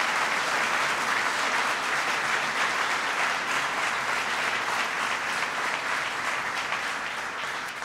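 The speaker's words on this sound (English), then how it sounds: "So give yourselves a big round of applause." A community college crowd gives a big round of applause at a presidential speech, a loud, continuous roar of many hands clapping that holds steady throughout and eases slightly near the end.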